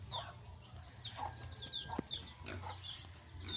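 Birds in a crowded pigeon loft, with repeated soft calls and clucking coos scattered over a low steady background hum, moderately close, and no one speaking.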